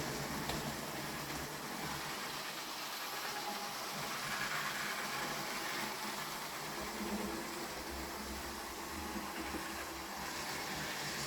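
A model railway Class 47 locomotive runs with a steady electric motor whir and faint track rumble, a continuous, moderately quiet hum without voices.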